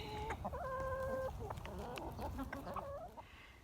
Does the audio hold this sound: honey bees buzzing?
no